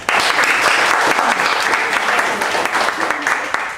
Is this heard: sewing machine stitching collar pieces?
no